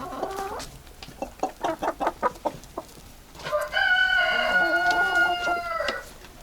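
Hens in a coop cluck in a quick run of sharp, rhythmic calls, then break into a longer, drawn-out squawking call, close and loud against quiet background.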